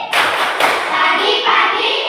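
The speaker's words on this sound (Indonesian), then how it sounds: "coba tepuk tangan" A group claps hands together at a lively morning cheer session, a dense burst of overlapping claps that stays loud and steady throughout with a brief break mid-way.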